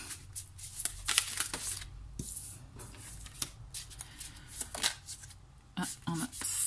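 Tarot cards are shuffled and drawn for an April Aquarius reading, with close, crisp riffling bursts and soft slaps of cards on a surface, while someone speaks quietly.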